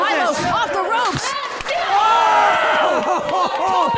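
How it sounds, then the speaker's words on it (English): A crowd cheers during a wrestling match with shouts and whoops, and sharp slaps and thuds sound from the ring. Commentators talk over the noise. "Look at that crowd."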